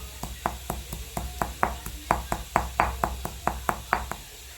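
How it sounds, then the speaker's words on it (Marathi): Cumin and a little salt being pounded in a stone mortar and pestle, a steady series of sharp, close knocks about three per second, each with a faint ringing edge, and no talk. "खलबत पहिल्यांदा जिरे वाटून घ्यायचे जिरे थोडंसं मीठ असं वाटून घ्यायचं आपल्या खल्लूमध्ये"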